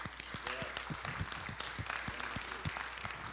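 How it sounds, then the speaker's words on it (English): Indoor audience applause in a chapel for a group of men who took down a tabernacle, quiet and scattered, with individual claps clearly spaced and a faint voice or two underneath. "I want to give all these men a round of applause"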